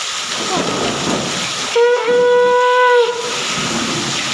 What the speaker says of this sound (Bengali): ভীষণ বাজ করছে।